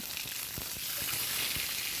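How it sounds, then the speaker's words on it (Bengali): Mango pieces fry with tempering spices in a pan for a jaggery mango pickle, giving a steady close sizzle with a few soft stirring clicks and no voices. "এই আমের সাথে এই ফোড়নটাকে খুব ভালো করে কিছুক্ষণ সময় হাতে নিয়ে আমি ভেজে নেব"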